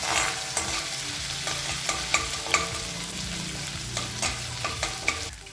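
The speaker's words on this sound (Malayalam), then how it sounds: "ഇഞ്ചി വെളുത്തുള്ളിയുടെ പച്ചമണം മാറുന്നവരേക്കും ഒന്ന് നന്നായിട്ട് വഴറ്റി കൊടുക്കാം" Ginger-garlic paste with curry leaves sautés in hot oil for an egg curry, a continuous frying hiss broken by regular scraping strokes of a spoon across the pan, close and clear with no talking.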